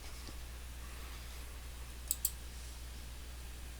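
Two quick, crisp computer mouse clicks in a row, close and fairly faint over a quiet room hum.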